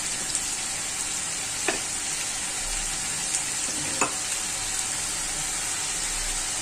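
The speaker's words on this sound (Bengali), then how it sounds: "লবণ আর হলুদ দিয়ে আগে আমি আলুটা ভেজে নেব।" Potatoes frying in a pan with salt and turmeric, a constant bright sizzle up close with a couple of faint clinks from stirring, no talking.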